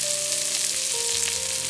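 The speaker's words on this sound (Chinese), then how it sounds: "锅热倒油，鱼肉给它下锅" Pieces of a large wild pomfret pan-frying in hot oil with ginger and garlic slices, giving a steady, close, even sizzle throughout with no talking.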